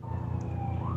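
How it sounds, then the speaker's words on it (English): A siren wails at a distance, faint and steady, its rising and falling tone sitting above a low background hum. "I hear sirens."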